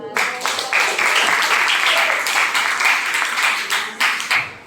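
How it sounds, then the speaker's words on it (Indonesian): A classroom audience at a high school in Batam claps after a group presentation, with close, fairly loud applause that swells and ebbs in uneven bursts before thinning out at the end. "Terima kasih aplaus."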